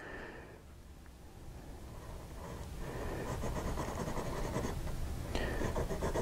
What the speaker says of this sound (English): reverse writing works fine